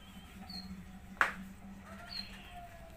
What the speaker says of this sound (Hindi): देखो कैसे चिड़िया की बाहर आवाज आ रही है।